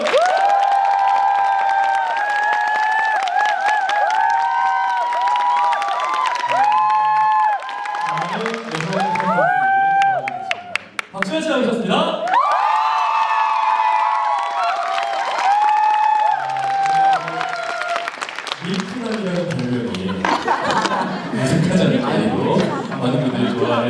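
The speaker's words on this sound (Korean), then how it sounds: "여러분, 큰 박수 한번 주실까요?" Concert audience in a hall applauding and cheering loudly throughout, with shouts and whoops over sustained clapping and a brief dip partway through; voices call out within the crowd noise.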